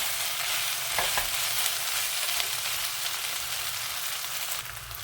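Pork belly fries in its own rendered oil with a dense, loud, continuous sizzle and crackle, close by, with a few stirring knocks early on and no talking.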